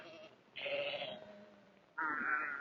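Sheep on a Navajo range bleat twice, two clear, fairly close wavering calls separated by a short quiet gap, with no talking.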